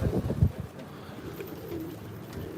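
Rooftop pigeons give low, throaty coos, a few rolling calls loudest at the start, then fading into quieter background murmurs and faint distant sounds.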